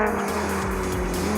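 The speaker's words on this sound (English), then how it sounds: "The green flag is waved and the cars will accelerate back up to racing speed" Loud, steady roar of race car engines at full throttle, a dense continuous drone with no voices.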